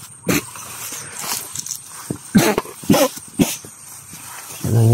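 A dog barks and yelps in short, sharp bursts nearby, irregularly spaced, with some rustling between them.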